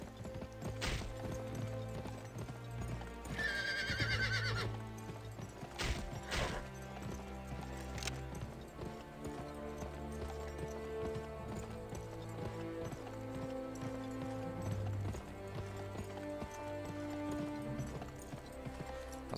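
Horse hooves clip-clop steadily in the Western video game Gun, with a brief whinny near the start over a low, layered in-game soundscape.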